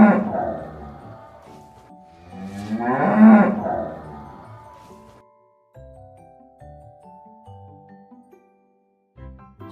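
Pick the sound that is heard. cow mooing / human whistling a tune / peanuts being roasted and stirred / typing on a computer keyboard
cow mooing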